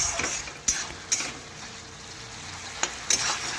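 Potatoes and carrots get stirred in a pan as the remaining water cooks off, a close sizzle punctuated by four sharp spatula scrapes and clinks against the metal.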